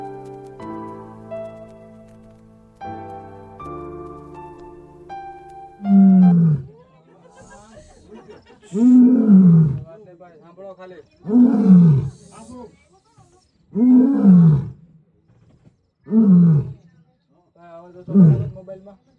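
A lioness at Ambardi safari park roars in a series of about six loud, deep, drawn-out calls spaced a few seconds apart, preceded by a person speaking nearby.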